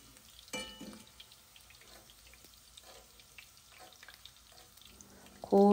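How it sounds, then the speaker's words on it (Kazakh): Chopped potatoes tipped into hot oil for frying, giving a sudden splash and sizzle followed by a steady, faint crackle and hiss, with a louder burst of sizzling and clatter near the end. "Турап алған картоптарымызды барлығын майға салып,"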